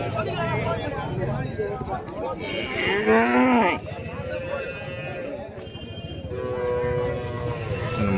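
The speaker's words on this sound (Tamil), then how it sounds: "ஒரு மேற்குத்தி பசு கொண்டு வந்திருக்காங்க." Cattle at a busy livestock market in Vaniyambadi, with a loud, drawn-out moo rising and falling midway, a second lower call near the end, and people talking throughout.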